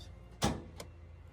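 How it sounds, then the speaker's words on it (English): A car's hood being opened during a driving-test vehicle check: a sharp mechanical clunk as the latch releases, followed shortly by a lighter second click, both fairly close and isolated against a quiet background. "Open the hood."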